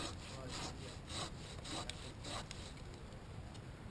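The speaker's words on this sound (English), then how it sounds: "we'll go handsaw" A handsaw cuts through a poplar tree standing over a house, making quick, rhythmic rasping strokes that are loud and close, with no talking.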